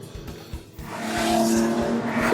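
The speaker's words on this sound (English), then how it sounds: "if you like the sound you're hearing, that's my car. It's the Boxster S, a limited edition" Limited-edition Porsche Boxster S sports car driving on a mountain road, with engine rumble and tyre noise rising into a strong, continuous pass, plus some thumps early on.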